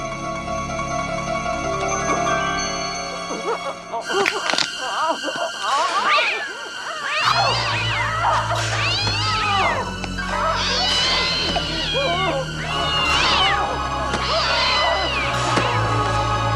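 A cat meows and caterwauls repeatedly in drawn-out, rising and falling cries, loud and close, while a person talks over parts of it and a low background hum runs underneath.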